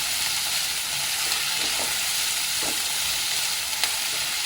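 Cumin seeds sizzling in hot oil in a pan while cooking okra with yogurt and gram flour: a steady, close frying hiss with a few faint stirring taps.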